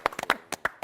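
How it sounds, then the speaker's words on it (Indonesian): Scattered hand claps from a small audience at a motivational talk event, about seven distinct claps in under a second, fairly faint and uneven rather than a full ovation. "kita tepuk tangan buat berempat"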